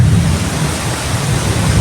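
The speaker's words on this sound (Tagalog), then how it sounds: "may kidlat." Heavy rainstorm with a low rolling rumble of thunder, a dense, loud, unbroken roar close by throughout, no voices.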